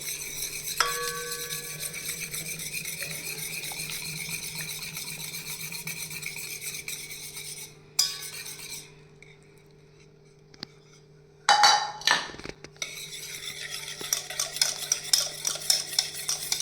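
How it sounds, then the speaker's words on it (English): Melted butter and egg being mixed in a bowl for walnut brownie batter, with steady scraping and clinking stirring throughout, a brief pause near the middle, then sharper utensil knocks toward the end. "Now let's combine the melted butter with the egg."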